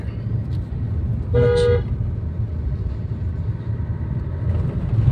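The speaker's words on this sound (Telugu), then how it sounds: "హార్న్ కొట్టండి" One short car horn honk sounds briefly over a steady engine and road rumble from a car at a four-road junction.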